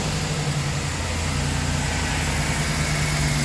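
An H2 Hummer fitted with shortie headers idles nearby, a loud, steady low rumble with a slight pulsing throb throughout.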